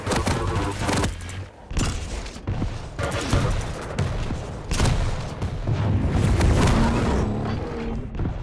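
Rapid bursts of gunfire and booming explosions in Quake Champions, a loud chaotic stream of shots and blasts with a few short gaps, and no talk over it.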